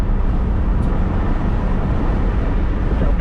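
A Honda Del Sol engine drones loudly and continuously with a dense, rough, even tone that holds steady throughout.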